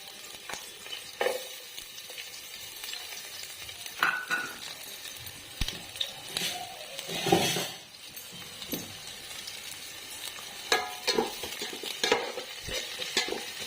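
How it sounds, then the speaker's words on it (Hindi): Onions fry with bay leaves in a pan for jackfruit biryani, a steady sizzle running underneath repeated scraping stirs and occasional clinks of a spatula against the pot, close and moderately loud. "प्याज को बेसी फ्राए करबानी भाजबानी अल्प टिके ब्राउन कर लाइट ब्राउन।"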